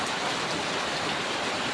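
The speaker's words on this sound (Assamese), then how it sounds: "কিন্তু আমাৰ ইয়াতে কিন্তু বৰষুণ দিছি" Steady rain falling outside a home on a cloudy day, a dense even hiss of drops filling the short stretch without pause, fairly close and constant with no voices.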